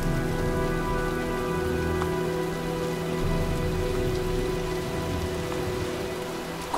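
A dense, steady rainstorm pours down in the game Heavy Rain, a loud continuous hiss of drops on surfaces that holds unbroken for the whole stretch with no voices.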